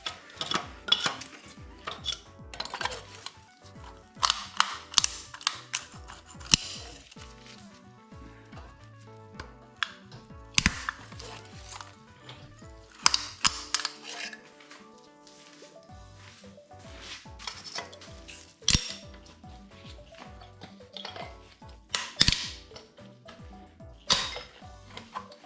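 Cooling fins are snapped and broken off a seized 1600cc VW Bug engine, a string of sharp metallic cracks and clinks at irregular intervals, close and fairly loud, with quieter rattling between hits.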